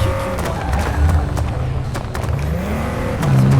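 Nissan GT-R R35 engine in Forza Horizon 5, a steady close-up drone that rises and falls in pitch as the car accelerates and eases off, with no talk over it.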